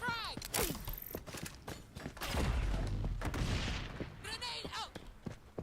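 Frag grenade blasts and bursts of gunfire from the shooter game XDefiant, a heavy low boom swelling mid-clip among sharp shots and footsteps, with game voice lines and chatter laid over the action.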